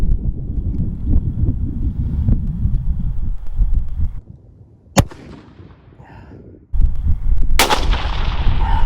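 A single sharp, loud rifle shot at a groundhog about 120 to 130 yards away in Pennsylvania, cracking out over steady wind noise on the microphone and followed by a bursts of wind rush.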